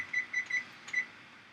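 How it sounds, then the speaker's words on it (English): Four short, high electronic beeps from a kitchen timer in a quick, slightly uneven pattern, fairly quiet and close, with no other sound around them. "Set our timer"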